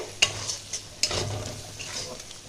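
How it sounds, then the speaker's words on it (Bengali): Chicken masala being stir-fried in oil in a pan, with a steady soft sizzle under two sharp scraping stirs of a utensil near the start and middle, close and moderately loud. "এটা ততক্ষণ কষতে হবে যতক্ষণ না উপর থেকে ভালো করে তেল ছড়িয়ে আসে।"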